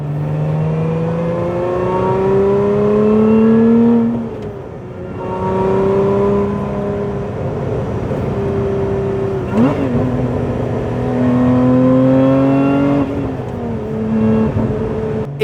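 A 2024 Lotus Emira V6 sports car engine revs and holds steady with rising and falling pitch, loud and close, easing off briefly before climbing again.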